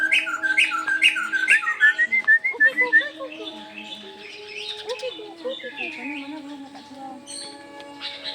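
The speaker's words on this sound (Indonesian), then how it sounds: "Nah, itu suara cicak rowo." A straw-headed bulbul (cicak rowo) in a deer park animal enclosure sings loud, rich, bubbling whistled phrases that rise and fall. They come fast at first, then grow sparser, and a person talks faintly in between.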